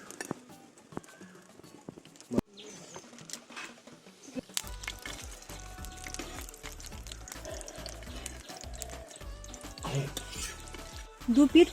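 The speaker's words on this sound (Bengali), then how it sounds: "এটাকে হালকা আঁচে খুব ভালো করে ভেজে নেব" Chicken mughlai paratha frying in a pan over low heat, a soft sizzle that grows busier partway through, with intermittent spatula taps and scraping.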